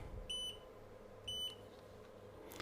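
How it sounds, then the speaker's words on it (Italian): A continuity tester's buzzer, used while checking solder points on a vintage HP 3310A function generator, gives two short, clear beeps about a second apart. The room is otherwise quiet with a low background hum. "mettiamo il cicalino."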